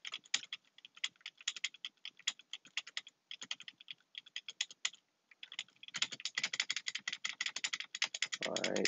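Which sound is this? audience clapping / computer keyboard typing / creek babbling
computer keyboard typing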